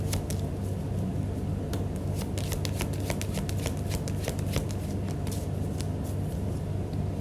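Tarot cards being shuffled by hand, a close continuous run of crisp riffling and flicking snaps over a steady low background hum, with no talking.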